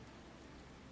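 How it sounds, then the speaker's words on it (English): Rain falls as a steady, faint hiss of drops with no distinct individual patters and no voices. "I hope the rain is not bothering you"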